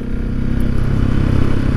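A motorcycle fitted with a Wings exhaust and a Rade intake rides on a highway toward a mountain, giving a loud, steady, close engine drone with wind rush.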